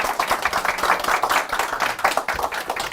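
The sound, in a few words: audience applause for panelists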